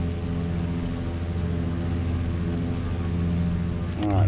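A Morane-Saulnier MS733 Alcyon's piston engine idles before takeoff in Microsoft Flight Simulator, a steady close-up droning hum throughout that swells briefly at the end as the revs rise.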